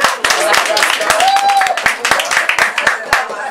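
A Bulgarian school gathering breaks into close, loud clapping with sharp individual hand claps and cheering voices mixed in, lasting several seconds.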